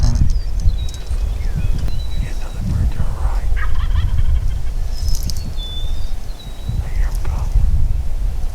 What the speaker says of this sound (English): they both got full gobbles